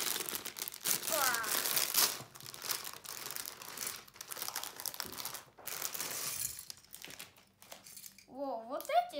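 A crinkly plastic bag of Lego pieces is opened, giving continuous close crackling and rustling with brief lulls, and a voice comes in at the end.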